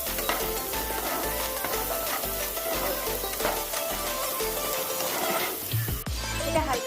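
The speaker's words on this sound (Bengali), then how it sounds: "হালকা ফ্রাই হয়ে গেলে পেঁয়াজটা দিয়ে দেবো।" Onion and garlic frying in a pan with a little salt, stirred steadily, giving a continuous close sizzle with scraping strokes and a brief clatter near the end; no one talks.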